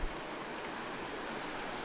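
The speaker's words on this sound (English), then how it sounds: "I am back at the river crossing" River water rushes steadily at a backcountry river crossing near Snoqualmie, a dense, even broadband roar with no voices.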